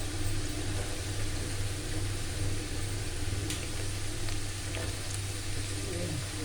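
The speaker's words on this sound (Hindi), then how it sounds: "मैं थोड़ी थोड़ी करके फ्राई कर रही हूँ, आपने भी थोड़ी थोड़ी करके फ्राई करनी है।" Potato fries cook in hot oil in a home kitchen, giving a steady, moderately loud bubbling sizzle with no pauses and no voices.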